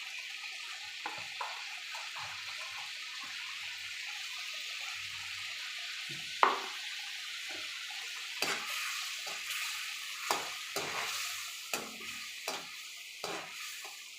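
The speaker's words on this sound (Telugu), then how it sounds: "టమాటా, కొత్తిమీర, కరివేపాకు బాగా ఫ్రై అయ్యాయండి." Tomato, coriander and curry leaves fry in a pan with a steady, close sizzle, broken by a few sharp clicks and scrapes from stirring toward the end.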